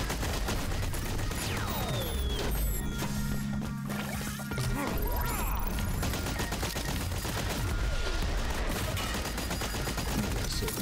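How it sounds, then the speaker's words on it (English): Missile launches from a boss in the side-scrolling game Blast Brigade, set among dense, continuous bursts of gunfire and crashing impacts, loud and busy throughout with a low rumbling stretch in the middle. "When it opens that little back latch, it's going to launch the missiles."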